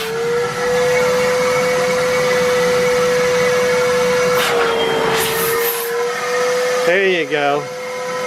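A vacuum blows air into hot tub plumbing for winterizing, a loud steady whining drone with a tonal whistle that falls away near the end, while people talk briefly over it.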